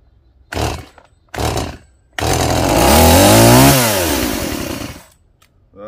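A STIHL chainsaw fitted with a Chinese replacement engine gets two short pulls that sputter briefly, then catches and roars loudly for about three seconds, revving up and down before cutting out.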